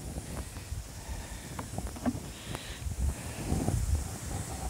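Gusty wind blows outdoors beside a beehive, buffeting the microphone with a continuous low rumble and rustle that swells and eases over a few seconds, with no voices.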